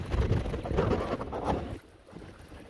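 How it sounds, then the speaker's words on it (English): Gusty wind buffets the microphone beside a creek during ultra-light panfishing, a loud low rumbling roar that drops off sharply partway through to a quieter breezy hiss. "The wind is going a lot more than I'd really like it to be"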